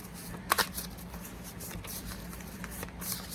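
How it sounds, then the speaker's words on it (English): Playing cards shuffled by hand at close range, a couple of sharp snaps followed by soft repeated riffling and sliding, fairly quiet over a low room hum. "So I'm gonna pull 4 cards. Let's see. I'm gonna shuffle up."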